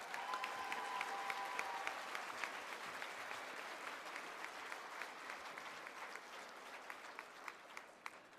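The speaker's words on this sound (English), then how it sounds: "how about one more round of applause for our middle school students?" Steady applause from families and guests at a middle school academic recognition ceremony, sustained clapping from a sizable audience that carries on evenly for several seconds, heard from a distance.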